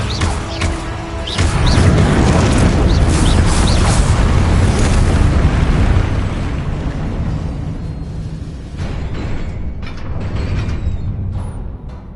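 Confringo blasting spell in Hogwarts Legacy, a long rumbling explosion with crackling debris and creaking mechanical textures, loud at first then fading into lighter rattles, no voices.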